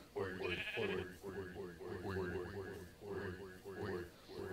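Minecraft sheep bleat repeatedly in a video game, several nasal wavering calls in quick succession, loud and close, with someone talking over them.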